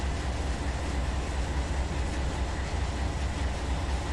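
BNSF freight train rolling across the desert at about 70 mph in Run 8 Train Simulator, a steady, continuous rumble and rail roar with no breaks, heard alone at an even loudness throughout.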